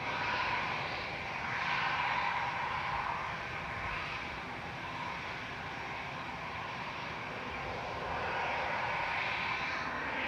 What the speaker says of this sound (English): So we've got EasyJet 7502 to Faro lined up waiting in front of us on Victor